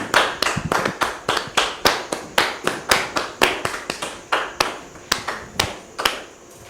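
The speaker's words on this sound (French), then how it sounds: "Merci de les recevoir sous vos applaudissements, s'il vous plaît." A small audience claps in slow, sharp, rhythmic unison to welcome two guests, each clap crisp and near, the beat steady for several seconds.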